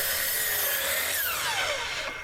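Power saw fitted with an 80-tooth finishing blade cutting TimberTech composite decking, a loud continuous high whine and rasp that audibly winds down in pitch near the end, with no talking.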